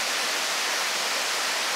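A river swollen by a weekend of heavy rain, carrying icy meltwater, rushes past in a steady, dense broadband roar with no pauses and no voices.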